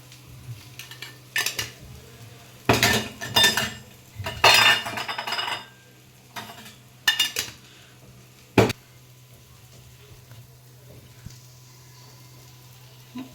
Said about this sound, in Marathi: आता व्यवस्थित ते फिशला लावून घेते मी.